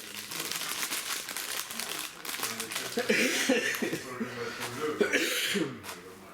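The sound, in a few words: man coughing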